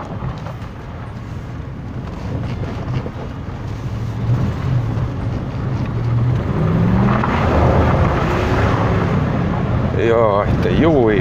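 A 2016 RAM 1500 BigHorn with a 5.7 HEMI V8 and high mileage pulls away, its engine rumble building steadily under cabin noise while someone talks over it.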